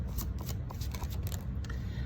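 Tarot cards are shuffled close up in a quick, steady riffle of papery flicks and slaps that lasts about two seconds.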